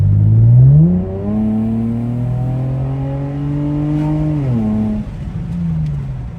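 An Infiniti G35 engine and exhaust revving on a closed track, with a loud rising rev, then a long steady held pitch that drops away and settles back to a lower idle-like drone.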